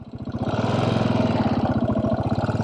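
Janus Halcyon 450 motorcycle engine running, a close, loud, rapid pulsing thump that picks up in the first half second and then holds an even chugging rhythm, with no talk over it.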